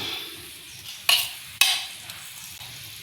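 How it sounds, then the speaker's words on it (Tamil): Okra sautés in coconut oil in a village-style pan, giving a soft continuous sizzle cut by two sharp, loud scraping stirs, with no one talking. "வெண்டைக்காயை வதக்கிவோம் வெண்டைக்காய் வதக்கட்டு"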